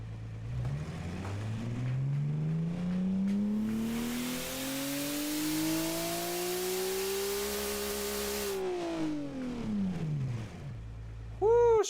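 A turbocharged car engine in the Automation and BeamNG racing games revs up, its pitch climbing steadily and holding high with a rushing turbo hiss, then dropping back down to idle, loud and close with no talking.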